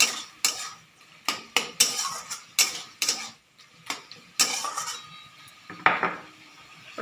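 A utensil stirs ridge gourd cooked with poppy seed paste and mustard oil in a pan, giving a close series of irregular scraping and clinking strokes, about a dozen sharp knocks with quiet gaps between them.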